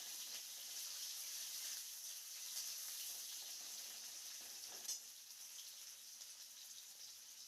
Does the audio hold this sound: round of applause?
no